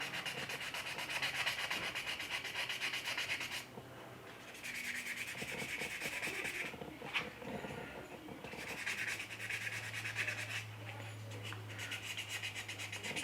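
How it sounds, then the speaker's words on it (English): Steady rasping strokes of 400-grit wet sandpaper rub back and forth across a hard resin surface, close and repetitive, with brief pauses between passes. "So wet sanding and using 400 is not very aggressive"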